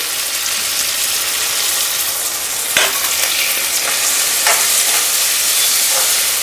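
Tomatoes and green chillies sizzle as they fry with browned onions in a pan, a constant close hiss broken by a few sharp scraping stirs.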